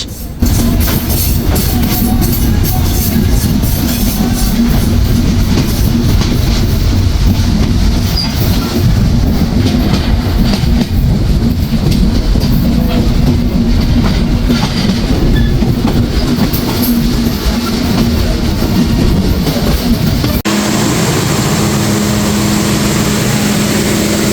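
The Chilahati Express (806) runs late past the Ishwardi bypass in Bangladesh, a loud, continuous rumble with rhythmic clickety-clack of wheels on rails, the tone shifting near the end.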